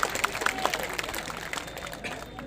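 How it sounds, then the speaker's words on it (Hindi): An audience at a political rally in West Bengal applauds to welcome a speaker, a brief spell of scattered clapping from a crowd, fairly faint and distant. "जरा जोरदार तालियां बजाकर स्वागत करें"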